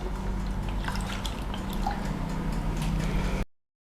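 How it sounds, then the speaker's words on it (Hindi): Black-eyed peas and water get stirred in a cooking pot, with close, faint liquid sloshing and small drips over a steady low background hum before an abrupt cutoff. "और इसको चला लेंगे"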